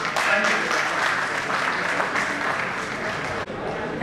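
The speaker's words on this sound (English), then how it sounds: "A big applause, please." Audience applause at a school annual day celebration: dense, steady clapping from a crowd that carries on without a break for about four seconds, loud and close, and dips only briefly near the end.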